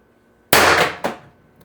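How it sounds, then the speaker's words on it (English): A BP50 tuning barrel fires a single 4-gram LLB Vindicator .50 caliber round as one loud, sharp crack with a short secondary smack, then quickly fades to quiet. "this is the tuning barrel shooting the 4-gram Vindicator rounds"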